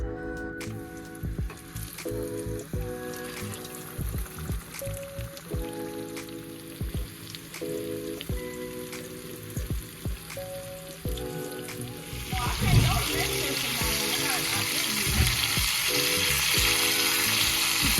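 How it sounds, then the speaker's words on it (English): Pot roast searing in a pan, a sizzle that grows louder and denser in the last few seconds, with a tonal melody playing along underneath most of the way. "Time to sear your pot roast."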